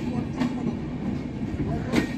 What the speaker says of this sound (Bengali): Benapol theke ei train ta abar Dhaka jabe.